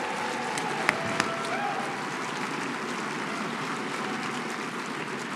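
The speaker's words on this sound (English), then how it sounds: "let's please give a big round of applause for our two GOATs, Lane Casadante and Tiki Barber" Audience at a sports awards show applauds after being asked to, producing a steady, somewhat distant wash of clapping and crowd noise, with a couple of sharper claps near the start.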